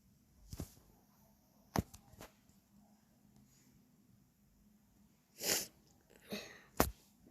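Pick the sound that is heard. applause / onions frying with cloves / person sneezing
person sneezing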